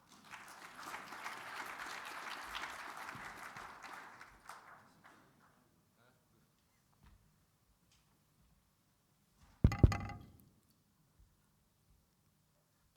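Audience applause at a military satellite conference, steady and dense for about four seconds as a keynote speaker is welcomed, then fading into quiet, followed by a brief loud microphone thump.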